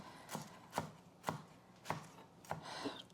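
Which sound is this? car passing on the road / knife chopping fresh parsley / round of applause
knife chopping fresh parsley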